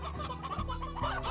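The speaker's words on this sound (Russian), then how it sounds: "3 курицы, 3 петуха, цыплята бегают, нормально" Chickens clucking in Slime Rancher, a continuous cluster of close, overlapping clucks from several birds, with no voices.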